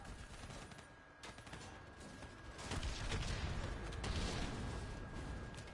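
Continuous distant gunfire and explosions from a Call of Duty: Black Ops 3 battle, a dense muffled barrage that swells louder toward the middle and stays steady, with no speech.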